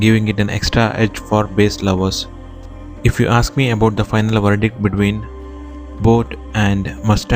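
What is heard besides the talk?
No everyday noise stands out behind the speech.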